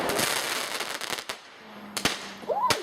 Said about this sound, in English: It's not our fault we can't control the fireworks.